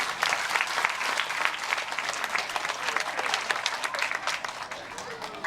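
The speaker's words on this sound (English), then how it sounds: "Let's give a big round of applause" An audience claps at an animal encounter show, a steady round of applause of moderate loudness lasting several seconds and tapering slightly at the end.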